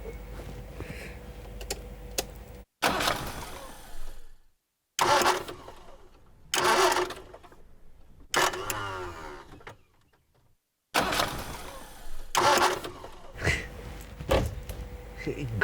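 A car engine cranks in about five separate bursts, each grinding attempt dying out with short silences between and no catch into a running idle, fairly quiet and close.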